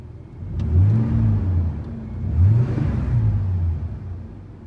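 A 1993 Ford F-150 pickup with a five-speed manual and nearly 100,000 miles revs its engine twice, a close, moderate rumbling rise and fall with no voices over it.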